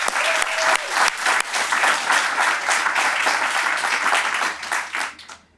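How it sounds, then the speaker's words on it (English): At a community ribbon-cutting event, an audience applauds in a loud, dense round of clapping that holds for about five seconds before fading out. "Let's give them another round of applause"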